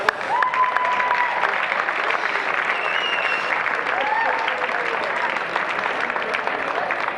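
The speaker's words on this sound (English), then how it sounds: "One more round of applause, everybody, for the referee squad." A large crowd at a men's European lacrosse championship awards ceremony applauds the referee squad, a dense, steady roar of clapping lasting several seconds with faint voices and whistles mixed in.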